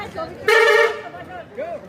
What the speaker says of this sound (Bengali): এই যে হর্ন দিচ্ছে, এখনই চলে যেতে হবে।